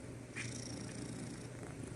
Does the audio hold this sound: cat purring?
yes